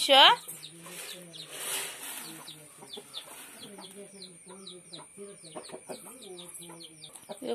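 Chickens cluck and chirp repeatedly in a busy, close flock while being fed, with short bird calls scattered throughout and a faint voice early on.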